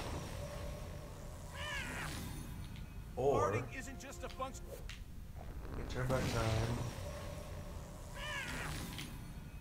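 Several meows from a cartoon cat in South Park: The Fractured but Whole, short and moderately loud, come in separate bursts between game effects while a player talks throughout.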